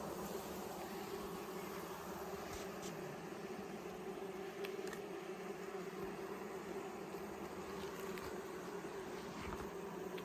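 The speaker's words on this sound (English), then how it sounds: "This hive is a little buzzy." Dense, steady buzzing of honeybees swarming over an open hive during an inspection, a continuous close hum with occasional louder passes of individual bees near the microphone.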